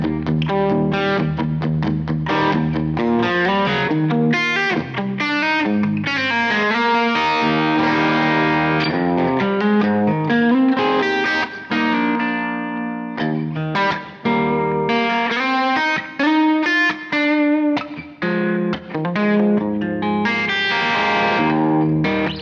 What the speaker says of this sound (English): it's overdriving the amp quite nicely